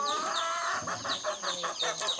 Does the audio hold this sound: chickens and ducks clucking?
yes